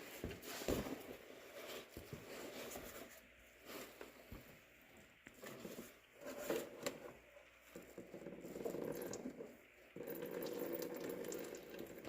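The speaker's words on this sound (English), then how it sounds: "I'm going to remove the lower rad hose nice and slow, and hopefully little bit by little bit I'll fill up my drain pan" Coolant draining from a Subaru's lower radiator hose into a drain pan, a faint steady trickle and patter of liquid with occasional small clinks, no talking.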